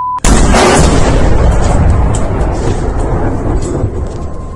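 A single loud explosion in Kherson, Ukraine, booms suddenly near the start, then a long rumbling roar slowly fades away.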